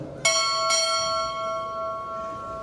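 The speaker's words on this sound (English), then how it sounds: "Strike, 2 bells." A ship's bell is struck twice at a U.S. Navy chief petty officer pinning ceremony, two bright ringing strikes about half a second apart, the second tone lingering and slowly fading with no talk.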